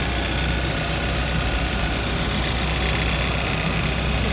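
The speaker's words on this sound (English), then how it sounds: "There's that turbo engine." A 2012 Kia Optima GDI with a two-liter turbocharged engine idles steadily, a close, even low rumble with a constant hum and no revving, alone without voices.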